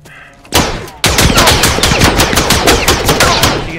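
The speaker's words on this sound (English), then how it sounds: "Just shoot the bomb." Rapid gunfire in the video game Galactic Contention as players shoot a bomb: a single sharp shot, then a loud, sustained automatic burst of evenly spaced cracks that runs to the end.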